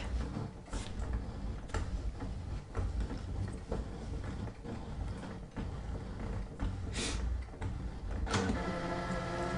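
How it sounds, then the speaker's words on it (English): A ScanNCut cutting machine drags its vinyl blade through a vinyl shape, giving a steady mechanical whir with rapid ticking and clicking carriage movements. The machine sound is close and continuous, with a few sharper knocks. "this is now going to cut using the vinyl blade"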